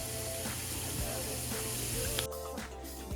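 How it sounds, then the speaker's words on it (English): Ground beef sizzles steadily in a pan in a home kitchen, a continuous frying hiss that runs the whole time under a low background hum. "the ground beef is sizzling and almost ready to go ahead and strain."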